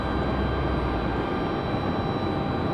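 A Spirit Airbus A320neo with Pratt & Whitney engines rolls for takeoff, producing a steady, broad jet roar heard from a distance at an airport, with no voices.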